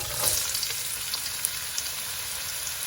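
Onion fries in a hot pan of sunflower oil, giving a close, steady sizzle with scattered small crackles and pops that ease off slightly over about three seconds, no talking.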